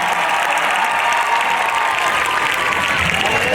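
A large crowd at a Rajasthani comedy performance during a town festival, Shekhawati Utsav in Laxmangarh, claps continuously in loud, dense applause throughout.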